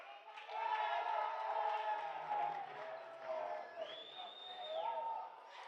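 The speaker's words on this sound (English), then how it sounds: "James Munlin gets a seat, gets a nice hand from the crowd" A basketball crowd at an SFCC vs MVCC game gives a warm round of applause and cheers as a player heads to the bench on a substitution, a steady, moderately loud wash of clapping and voices from a large indoor audience.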